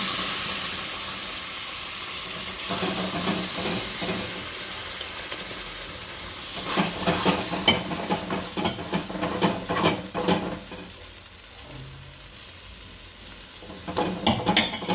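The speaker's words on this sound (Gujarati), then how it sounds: "ઊનું પાણી થોડું થોડું નાખી દઈએ," Warm water is added a little at a time to roasted rajgira flour and stirred, giving a steady close hiss and sizzle that swells into a rougher bubbling and crackling partway through, with no voices.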